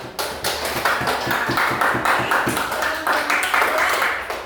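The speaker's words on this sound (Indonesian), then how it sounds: "Tepuk tangan." A classroom of students claps hands together, a loose burst of sharp, uneven claps at close range that keeps going throughout.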